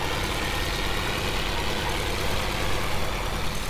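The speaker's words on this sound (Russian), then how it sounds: "У нас турбо какой-то трактор." Tractor engine in the farming game Farming Simulator 15 runs with a steady, dense mechanical drone, holding an even loudness throughout with no talk over it.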